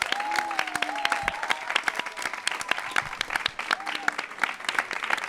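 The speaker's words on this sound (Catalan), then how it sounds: "feu un aplaudiment o alguna cosa" Audience applause at a live Catalan stage show, a dense steady patter of many hands clapping throughout, with scattered voices and brief whoops rising over it.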